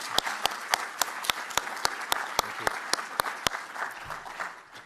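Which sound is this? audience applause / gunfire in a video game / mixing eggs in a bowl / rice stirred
audience applause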